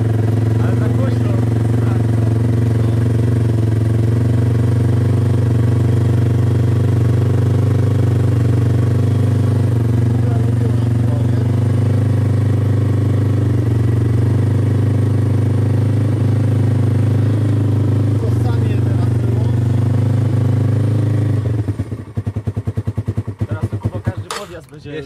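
A mini bike engine runs close by with a loud, raw exhaust, a steady low droning idle that holds for about twenty seconds before sputtering and cutting out near the end.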